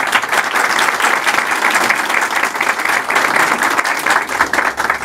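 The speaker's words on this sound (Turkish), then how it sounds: "Onlar için sizden bir alkış talep ediyorum" Sustained, dense applause from a crowd at a Turkish political party event introducing mayoral candidates in Mudanya, loud and steady throughout with no speech over it.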